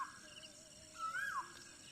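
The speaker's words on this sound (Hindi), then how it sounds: "कोयल की आवाज़ सुनाई दे रही है आपको" An Asian koel calls faintly in the distance, a rising whistled note that swells briefly over a thin background of insect-like chirring.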